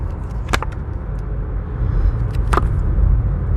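A car driving on the road gives a steady, loud low rumble from inside the cabin, with a couple of brief clicks or knocks over the constant engine and road noise.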